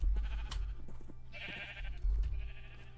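Sheep in a video game community pen at the spawn area bleat in short calls over a low background hum and soft game sounds.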